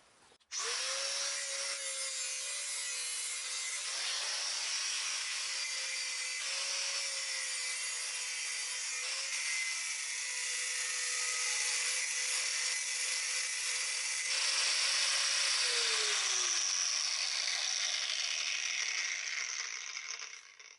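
A car brake caliper piece held in a vise is cut steadily and continuously with a harsh, grinding tone that shifts slightly near the end, loud and alone with no voices.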